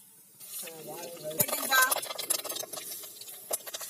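Oil crackles and sizzles as shallots drop into a hot pan over a wood-fired stove, with scattered pops and stirring over a steady hiss.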